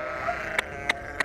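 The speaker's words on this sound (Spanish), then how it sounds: "hay una oveja que no quiere salir" Sheep in a flock being moved out of an alfalfa field bleat three times in short, evenly spaced calls at moderate distance, over a faint steady background.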